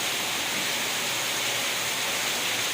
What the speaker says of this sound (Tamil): அவ்வளோ ஒரு பயங்கர மழை பெஞ்சுருக்கு